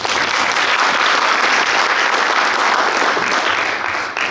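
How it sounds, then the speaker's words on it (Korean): Loud, dense applause from an audience at a university-industry cooperation forum in Gumi, South Korea, continuous clapping sustained evenly before tapering slightly at the end. "박수 한번 보내드립니다."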